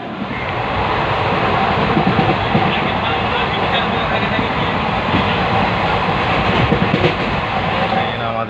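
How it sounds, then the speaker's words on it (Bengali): Sona Express pulling into Howrah station, a loud continuous roar of the train and platform din filling the whole stretch, with people talking faintly underneath. "সোনা এক্সপ্রেস চলে এসছে"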